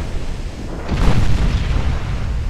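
Shell hits explode on warships in the naval combat game Ultimate Admiral Dreadnoughts, a deep booming blast that swells about a second in and rumbles on loudly to the end.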